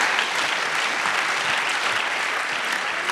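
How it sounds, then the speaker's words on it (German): An audience applauds after a presentation at a youth hackathon in Berlin, a dense, even burst of clapping from many hands throughout. "Applaus."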